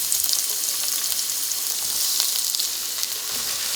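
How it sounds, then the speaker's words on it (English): Onion slices sizzle and crackle in hot olive oil in a frying pan while making onion marmalade; a steady, close, loud hiss runs throughout with no talk. "You'll know when it's up to temperature by dropping 1 slice in to see if it sizzles."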